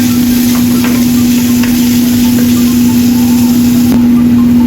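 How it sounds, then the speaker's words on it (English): Minced ginger and chopped garlic stir frying in a pan give a loud, steady, broadband sizzle with a constant hum beneath it, unbroken throughout and no voices. "Add chopped garlic and stir fry."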